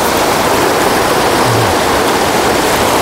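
Yethipothala waterfall at Molkanpad near Zaheerabad, a steady broadband roar of rushing water that stays loud and even throughout, with no voices.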